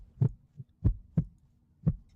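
Heartbeat sound effect: deep, close, thudding beats in a steady pulse, about four or five within two seconds, alone without talk.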